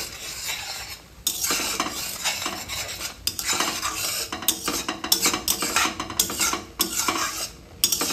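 Chicken offal stirred and fried without oil in a pot, with repeated scraping and clinking of a metal spoon against the pan over a dry sizzle, in busy irregular bursts.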